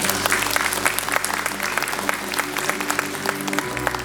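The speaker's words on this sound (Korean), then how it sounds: "다시 한번 박수 부탁드립니다" Sustained audience applause at a symposium lecture, a dense even wash of many hands clapping with a faint low hum beneath, steady throughout.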